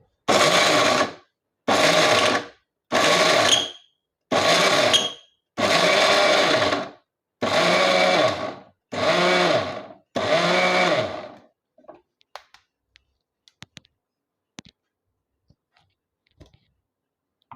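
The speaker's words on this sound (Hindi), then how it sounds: "इसे कंटिन्यू मिक्सी नहीं चलाए, रुक रुक के चलाए" A mixer grinder grinding cashews runs in eight short, loud bursts with brief pauses between them, followed by quiet with a few faint clicks.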